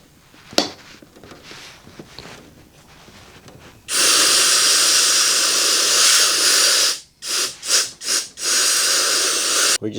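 An aerosol paint spray can with its top nozzle removed hisses out in a loud, steady broadband rush lasting several seconds, then breaks into a few short choppy bursts before resuming.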